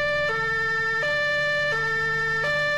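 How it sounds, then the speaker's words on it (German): A loud two-tone police car siren alternates steadily between a high and a low pitch, clean and synthetic, with a faint engine hum underneath, in the video game Arma 3. "Mach die Sirene an, mach die Sirene an."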